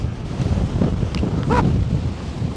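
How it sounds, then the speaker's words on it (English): Strong wind batters the microphone on an icy mountain summit in the Scottish Highlands, a loud, continuous buffeting rumble with gusty surges. "We're struggling to stay standing in the wind."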